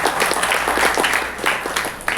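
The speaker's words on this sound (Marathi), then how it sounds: "पुन्हा सगळ्यांचे जोरदार टाळ्या होऊ दे" A hall audience at an award ceremony in Solapur breaks into steady applause, a lively wash of many hands clapping at moderate loudness for the whole stretch.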